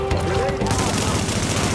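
Rapid gunfire in The Division video game rattles out as a dense, loud burst of automatic shots lasting the whole moment, with a brief tonal in-game sound near the start.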